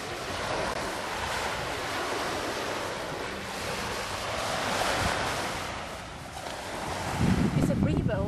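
Sea waves washing onto a beach in Thailand: continuous broad surf roar with wind buffeting the microphone, swelling midway, then a closer, louder rush of water near the end.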